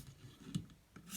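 A knife blade rasps across a ViperSharp sharpening stone in two or three quick, faint strokes close to the listener.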